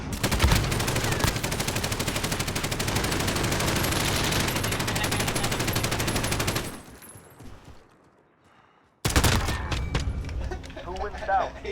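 Rapid automatic gunfire from a weapon in the video game Apex Legends, a dense, continuous burst that runs for several seconds, then drops out briefly and resumes with more shots, with voices and other game sounds mixed in.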